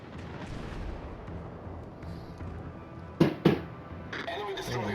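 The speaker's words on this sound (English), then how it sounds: "And there's also fireworks going off." Fireworks go off during a World of Warships: Legends naval battle with the battleship Wisconsin. Two sharp pops burst in quick succession over a low rumbling background, with a voice talking.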